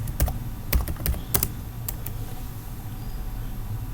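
Several sharp keystrokes on a computer keyboard while a short word is typed into a web page paragraph, clustered in quick bursts early on, then a few isolated taps, close and clear over a low room hum.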